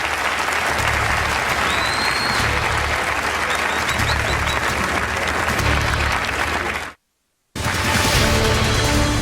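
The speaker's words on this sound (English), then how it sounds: "Please give some applause to the candidates." A large crowd applauds the candidates at a televised Republican presidential debate, loud sustained clapping with some cheers, a brief cut to silence, then the applause resumes.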